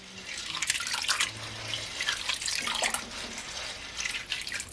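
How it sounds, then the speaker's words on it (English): Cold tap water runs over peas being rinsed for Jamaican rice and peas, a continuous splashing flow with bursts of louder gushing and swishing as the peas are stirred, fairly close with no talk. "just wash it in some cold water."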